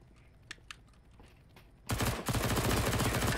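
Gunfire in a shooter video game: after a quiet stretch with a couple of faint clicks, a loud sustained burst of rapid shots erupts and continues to the end.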